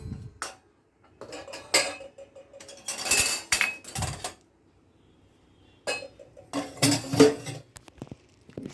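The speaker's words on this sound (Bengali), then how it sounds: "এই স্টিলের গ্লাসগুলো এখন বের করে ভালো করে ধুয়ে রাখতে হবে" Steel drinking glasses being handled and washed: bursts of clattering metallic clinks and knocks, close and fairly loud, in two busy clusters separated by a quiet pause, with no voices.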